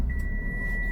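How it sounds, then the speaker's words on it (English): A 2020 Mitsubishi Attrage gives a single steady electronic beep lasting almost a second when start is pressed, close and clear over a low cabin rumble. "I never understood what those beeps are."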